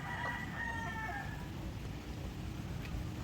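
A white leghorn rooster with a large, heavy comb crows on a farm, a fairly faint call in the first second and a half over steady background noise, with no voices.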